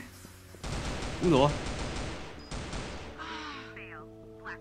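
A sustained burst from the RPK Fire Dragon machine gun in CF Mobile rattles loudly for a couple of seconds, with a short exclaimed voice over it and quieter game sounds after.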